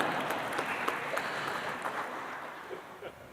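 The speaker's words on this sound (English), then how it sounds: "You can clap." An audience claps after a talk at a business school, a sustained patter of many hands, fairly even and moderately loud, thinning slightly toward the end, with no speech over it.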